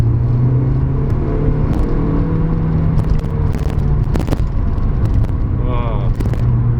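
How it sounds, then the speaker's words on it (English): Mazda MX-5 on coilovers cruising with a loud steady engine drone and road rumble, a camera inside clicking and rattling in scattered bursts over it. "that camera rattle is going to be unbearable. I apologise. It's the coilovers."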